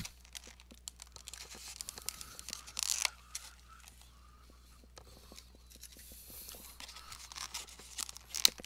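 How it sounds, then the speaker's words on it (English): Pokemon TCG cards from a Hidden Fates Ultra Premium Collection being carefully popped out of cardboard packaging, with soft intermittent crinkling, tearing and clicking close by, quiet and unhurried with small bursts of rustle. "So now we have some cards that need to get popped out."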